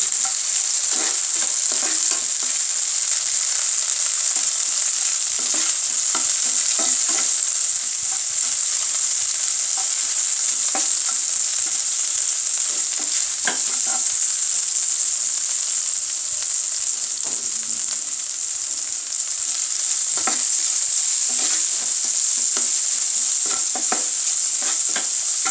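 Chopped onions fry with salt in a pan, a steady bright sizzle running throughout, broken by repeated scraping stirs of a spatula, with no voices.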